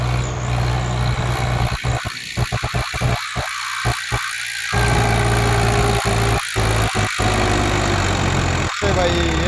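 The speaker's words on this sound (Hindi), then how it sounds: "अच्छा, तो ट्रैक्टर का करो स्टार्ट।" A tractor engine runs steadily through the whole stretch, a loud, continuous low drone on a steep uphill climb, with people talking over it in bursts.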